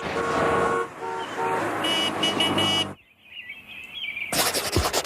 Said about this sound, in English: Listen to those passing motorists who support the teachers.